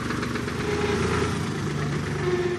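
A tractor engine idles steadily at an oyster farm, a continuous mid-pitched mechanical drone with a faint whining tone on top and no talk.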